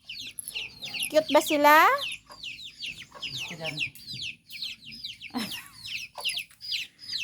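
Small ducklings peep in quick, high, repeated bursts close by, a near-continuous chatter of chirps while someone talks over them.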